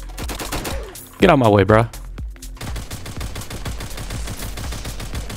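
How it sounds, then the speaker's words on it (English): Gunfire in the Roblox game Flag Wars, fast crisp shots rattling in quick rhythmic bursts throughout, with a brief loud voice line breaking in early on. "They're just firing down this hallway."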